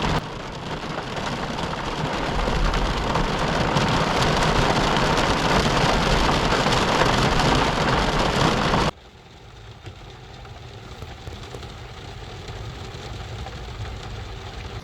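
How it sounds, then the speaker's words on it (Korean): Rain drumming on a parked Hyundai Sonata sedan during car camping at a waterside park in Incheon, a dense steady patter that drops abruptly to a quieter, softer patter partway through. "밖에 지금 비가 내리고 있어요."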